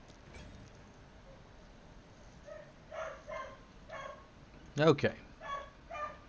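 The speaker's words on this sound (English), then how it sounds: "What is my dog going crazy about down there?" A dog barks and yips from downstairs, several separate moderately loud barks under a quiet voice, with a sharp burst of barking near the end.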